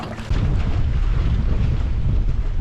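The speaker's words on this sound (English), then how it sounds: "Well, the wind has picked up." Strong wind gusting over a small sailboat on open water near Broken Bay, a loud, steady roar of wind buffeting the microphone with low rumble from the hull and sea.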